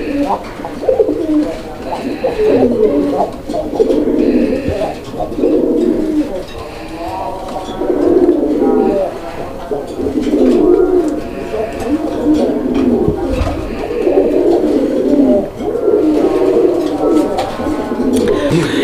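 Lahori Bombay Coca colouring Raj-golla pigeons coo in repeated low, throaty phrases close by, one bout after another with short gaps between, and no other sound competing.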